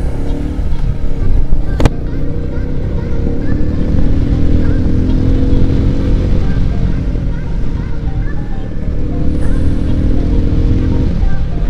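Royal Enfield Meteor 350 motorcycle accelerating on a city street, a steady engine drone building and holding throughout, with a brief sharp click early on.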